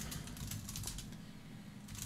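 Quiet clicks of a computer keyboard come in quick irregular bursts at close range, pausing briefly midway before resuming, while someone codes CSS flexbox layout for a browser.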